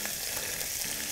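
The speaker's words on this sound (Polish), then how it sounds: "O, zobaczcie, już skwierczy, jak tylko wrzucam, a więc patelnia jest gotowa do tego, żeby przyjąć" Chanterelle mushrooms sizzle in a hot frying pan, a dense, steady crackling hiss close by that fills the whole short stretch with no talking.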